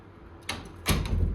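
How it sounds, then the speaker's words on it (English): A door is pushed shut indoors during a film shoot, with a couple of sharp knocks and bumps followed by a louder thud as it closes, heard close and with no talking. "I'm gonna close this door."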